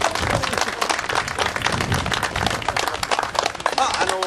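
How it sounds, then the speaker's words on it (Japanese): Dense, continuous applause from an audience at a women's fishing tournament awards ceremony, many hands clapping steadily at moderate volume throughout. "もう一度拍手をいただければと思います。"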